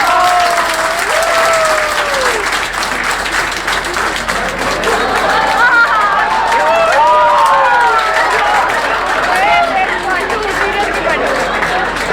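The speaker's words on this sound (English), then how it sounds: "So, huge round of applause for us, sir." A crowd gives a huge round of applause at a gathering, loud continuous clapping mixed with cheering and lively chatter, with several voices talking and calling out over it throughout.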